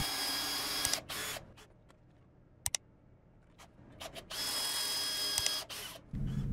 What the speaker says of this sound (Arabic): نظبط أداة تخريم الكوايل ونبتدي بسم الله